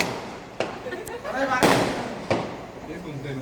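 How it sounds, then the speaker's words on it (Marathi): Sharp firecracker bangs burst out a few times, one large crackling blast in the middle, with people talking and cheering around them. "आम्ही फटाके फोडतोय या ठिकाणी बघा"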